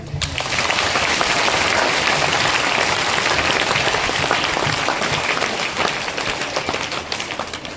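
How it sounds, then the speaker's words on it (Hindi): A large crowd at an outdoor Christian Cross Victory festival gathering on a hill claps loudly and continuously, a dense, steady wash of applause that thins slightly toward the end. "एक बार जोर से हाथ उठाकर ताली बजाएंगे।"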